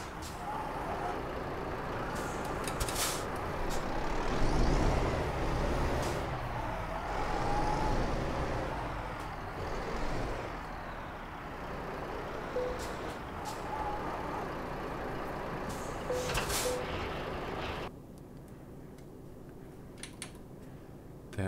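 A heavy truck rolls along in Euro Truck Simulator 2, a steady engine drone with road noise that swells and eases over time, then drops to a quieter idle near the end.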